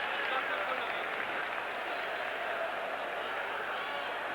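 Large stadium crowd at a Marseille v AC Milan European Cup quarter-final applauds a routine save by goalkeeper Olmeta, a steady broadband roar of clapping and cheering that holds for the whole stretch with no speech.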